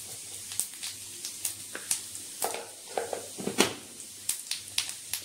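Cumin seeds crackle in hot oil with a low steady sizzle broken by many sharp, irregular pops and spits, close and fairly quiet, with no one talking.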